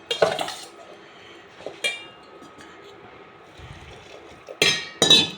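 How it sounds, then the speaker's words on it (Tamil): A spoon stirs damp flour with hot water in a pot while making Kerala payasam, giving scattered scraping clinks near the start, midway and two louder knocks at the end. "அந்த வெந்நீரை ஊற்றி நம்ம இப்போ கிண்டிக்கலாம்."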